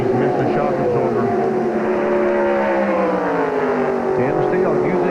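Stock race cars roar around Talladega in a late-race moment, engines droning loudly and continuously with pitch shifts as the pack passes, while commentators talk over the noise.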